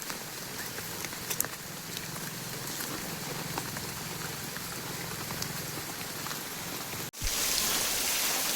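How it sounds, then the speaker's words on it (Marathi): Fairly heavy rain falls steadily in a rural Konkan setting, a dense even hiss of drops on surfaces with no voices, ending in a louder, brighter wash of rain noise after a brief break. "बऱ्यापैकी पाऊस लागता हा."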